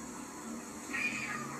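A cat meows at a front door at night, a single drawn-out call rising over a steady background hiss, moderately faint and heard alone without talk.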